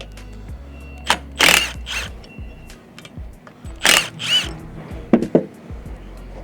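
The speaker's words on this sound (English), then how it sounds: "these are removed with a ratchet through the Allen cap screw" A ratchet loosens an Allen cap screw on a Rhinox Autolock quick hitch, with several sharp bursts of clicking and metallic rasping separated by short pauses, heard close up.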